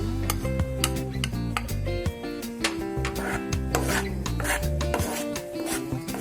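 A spoon scrapes and stirs gram flour (besan) with cardamom in hot oil in a pan for besan ladoo, giving close, repeated rasping strokes in an uneven rhythm, with no talk.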